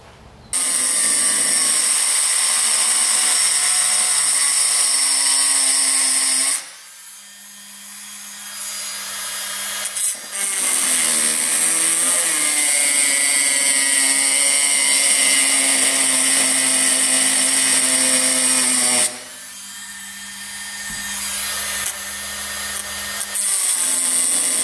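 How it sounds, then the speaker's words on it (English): A Dremel rotary tool cutting into a steel bearing race on a dirt bike, a loud, sustained high whine in two long bursts with a brief lower grinding pause between and a quieter gap before the second cut. "So what we're gonna do is try to take a Dremel, try to cut it in one spot and see if that loosens it up."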